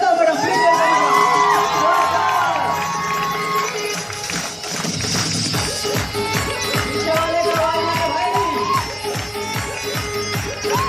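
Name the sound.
crowd cheering and applauding a welcomed speaker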